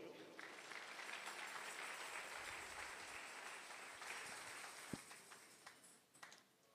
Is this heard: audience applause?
yes